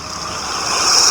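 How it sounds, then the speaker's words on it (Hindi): Ocean waves wash onto the shore in a steady broad hiss that swells slightly louder toward the end, loud and close, with no voices. "लहरों का टकराना"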